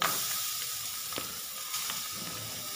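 Grated carrot tossed into vegetables frying in a pan, giving a soft, even sizzle throughout with a few faint clicks of stirring.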